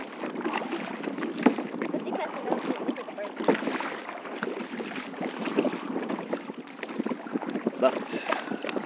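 A kayak moves through choppy waves off Islamorada, Florida, with steady splashing, slapping water and gusty wind noise on the microphone throughout, close and continuous.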